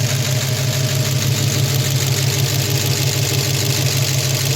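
Ford Mustang with a 302 4.9L V8 idles steadily during carburetor tuning, giving a close, even, low rumble with a slight regular lope and no voices over it.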